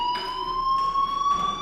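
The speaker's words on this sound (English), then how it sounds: "Hey, do you hear that fire alarm?" A fire alarm in the video game Life Is Strange rings continuously, a steady high electronic tone with pulsing bursts, loud and close throughout.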